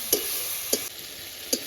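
Spice masala of coriander powder and dried red chilli powder stir-frying in oil with a little water for lata fish curry, a soft steady sizzle broken by three sharp scraping stirs, close by.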